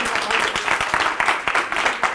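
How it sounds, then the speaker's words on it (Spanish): A live studio audience at a school show claps for a man brought on stage, a dense wash of applause running steadily throughout with no talk over it. "Un aplauso para este sinvergüenza."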